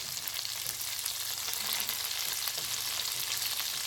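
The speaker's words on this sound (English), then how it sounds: "And then we're adding in all the onions at this time." Onions added to hot oil over medium heat, a steady even sizzle and hiss, close and continuous with no voices.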